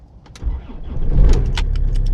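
A Rover 75 diesel is started: a brief click and clatter of ignition, then the engine cranks and catches into a close, low rumbling idle that swells and holds steady inside the car.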